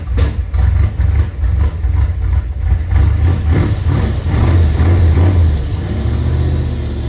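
Vehicle engine idling close by, a loud low rumbling idle with a steady pulsing beat and slight unevenness, no talk.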